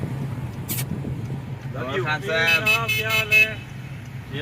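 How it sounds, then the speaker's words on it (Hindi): A car passes on a street with a police vehicle nearby, a steady road hum underneath, while people talk and a short horn-like tonal sound rises in the middle. "कार जा रही है और ये हमारी वीडियो बना रहा है भाई।"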